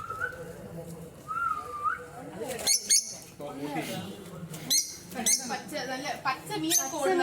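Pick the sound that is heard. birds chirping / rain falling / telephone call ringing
birds chirping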